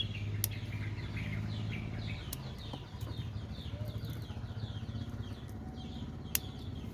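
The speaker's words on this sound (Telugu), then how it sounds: "అరుపులు ఎన్ని వస్తున్నాయిగా మీకు పిట్టల అరుపులు" Many small birds chirp and call in quick, scattered bursts around tomato plants over a low background hum, fairly faint and with no talking.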